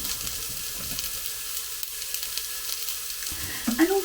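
Beef and oxtail sear in avocado oil inside a Cosori pressure cooker, a steady close sizzle and crackle with a brief stirring scrape near the end.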